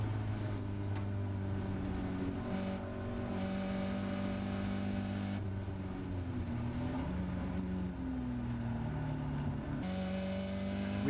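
Caterham race car at speed around the Oulton Park circuit during a race, its engine droning loud and steady throughout with shifting pitch through gear changes, no voices.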